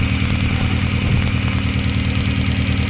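Kia Picanto engine idling roughly with a misfire and a cracked, leaking coil tube, a steady close mechanical rumble with a pulsing uneven beat throughout, no voices.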